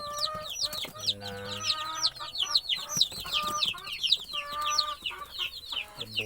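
Free-range chickens cluck and chatter busily nearby, overlapping calls and chirps forming a continuous lively farmyard chorus.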